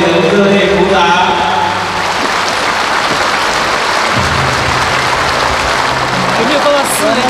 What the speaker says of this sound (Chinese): 欢迎师尊，我们再次用力的热烈鼓掌